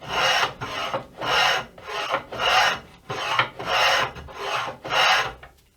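Rhythmic rasping strokes of a hand planer working a wooden guitar neck during carving, about eight steady back-and-forth passes, close and dry with brief pauses between each stroke.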